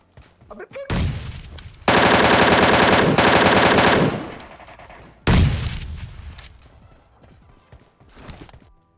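Loud bursts of rapid MK-14 rifle fire in PUBG Mobile, two long sprays separated by a pause, with echoing tails and no talking.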